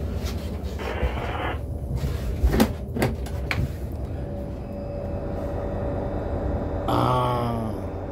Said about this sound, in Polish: Oj. Nie działają drzwi.